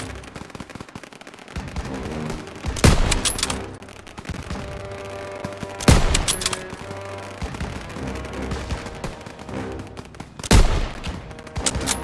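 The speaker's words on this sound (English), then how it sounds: "Germans got them surrounded! Get more fire over there!" Gunfire in the World War II shooter Call of Duty WWII: rattling bursts of automatic fire with three sharp, loud shots standing out over a busy, noisy battle.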